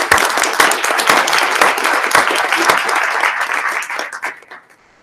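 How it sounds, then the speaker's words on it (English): A hearty round of applause fills the room at a board meeting, with dense clapping from many people that holds steady and then fades out near the end. "just wanted to give you a big hearty round of applause and a thank you."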